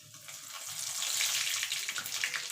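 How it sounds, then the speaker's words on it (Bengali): Black cumin seeds with a dried red chilli frying in hot mustard oil give off a steady, close hiss and crackle that builds in loudness and carries on alone without any talk. "ফোড়নে দিয়ে দেবো কালো জিরে।"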